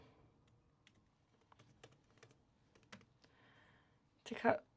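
Typing an email on a computer keyboard: sparse, soft key clicks spread over a few seconds, close and quiet, ending with a brief louder burst of sound.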